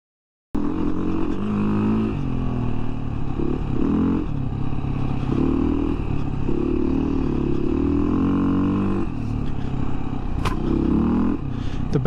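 A Beta dirt bike rides on trails with a steady, loud engine drone and rising and falling revs close by throughout, with no talk.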